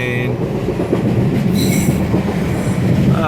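A passenger train passes through a long Swiss rail tunnel, making a loud, continuous close rumble with metallic wheel squeal and brief high screeches, and no voices.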